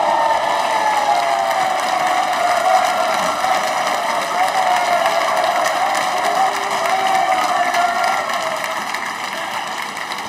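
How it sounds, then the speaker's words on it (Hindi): A seated audience of newly selected Rajasthan Public Service Commission accounts trainees claps for themselves at an OTS training session, producing a steady, dense wash of applause that holds at an even level for about ten seconds with no voices. "तालियां बजाइए अपने लिए।"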